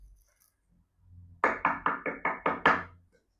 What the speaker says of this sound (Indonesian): Dia cuman mengetok pintu kayu yang sudah mulai rapuh.